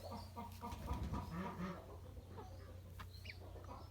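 A chicken clucks near an incubating egg in a run of soft, quick clucks, with faint higher chirps later on, all at low volume.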